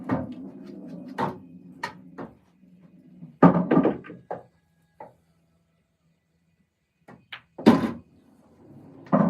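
English pool cue ball struck on a table: sharp knocks of balls colliding in short clusters, with a quiet low roll between them and no talking.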